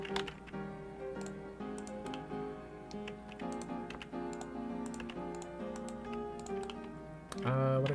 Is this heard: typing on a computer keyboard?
yes